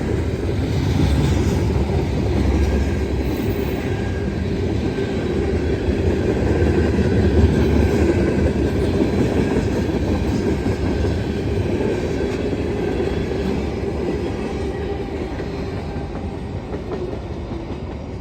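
A CSX manifest freight train passes at Seldom Seen Road with a loud, sustained low rumble of rolling cars and faint wheel clatter. The sound swells and eases slightly over the long pass, and no one talks.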